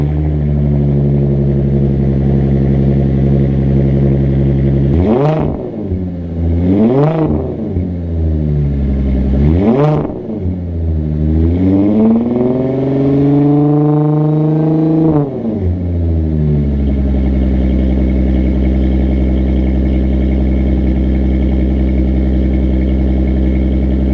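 A 4.0 Jeep CJ fitted with a Flowmaster Super 44 cat-back exhaust idles with a deep burble, then revs up sharply four or five times before settling back to a loud, steady idle, heard up close in a shop with no talking.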